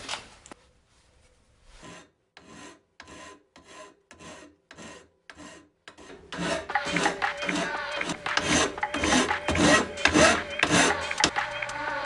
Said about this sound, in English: I'm going to file these edges down